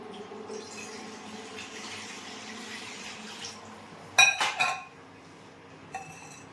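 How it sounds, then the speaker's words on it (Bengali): Water is poured into a wok set on a lit gas stove in a home kitchen, a few brief splashy bursts with a metallic clink against a low background hiss, close and moderately loud. "কড়াই চাপিয়ে দিয়ে কড়াইয়ে দিয়ে দেবো আমি জল"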